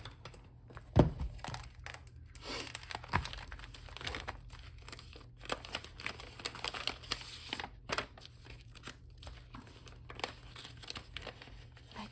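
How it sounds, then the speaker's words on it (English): Sticker sheets for a fitness planner crinkle and rustle as they are handled, with sharp peeling and tearing sounds at intervals, close and fairly quiet, with no talking. "let me get those stickers out"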